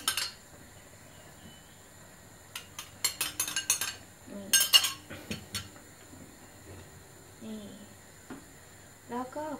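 Utensils scrape and clink against a pot of boiling water in a quick cluster of stirring sounds as rice noodles are stirred, then fainter scrapes follow, with a little background voice.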